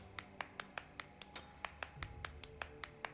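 A rapid, regular series of sharp claps from the character Mercury in the video game SMITE, about fifteen in a row at an even pace, crisp and close with a faint background underneath.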